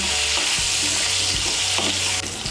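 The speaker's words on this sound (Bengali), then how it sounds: "কুমড়োটাকে আমি ভেজে নিয়েছি।" Pumpkin pieces fry with salt and turmeric in oil in a wok, producing a loud, dense, steady sizzle close up, broken by soft scraping stirs.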